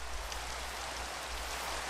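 Steady Minecraft rain pours as a dense, even hiss of falling drops, continuous and fairly faint, with no voices over it.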